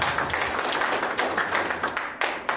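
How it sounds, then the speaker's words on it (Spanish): An audience at a live institute presentation on the Virgen de la Candelaria festival applauds with dense, steady clapping that carries on throughout, close and fairly loud. "Muchísimas gracias por ese voto de aplauso realmente merecido"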